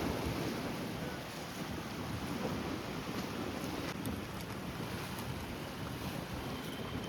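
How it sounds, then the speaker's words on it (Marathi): A boat heading back to its dock on open sea off Alibaug, its steady rushing engine and water noise carrying on without pause, mixed with heavy wind buffeting the microphone; no one speaks. "तुम्ही बघू शकता आता बोट परतीच्या प्रवासाने वापस आपल्या डॉकवरती चाललेली आहे."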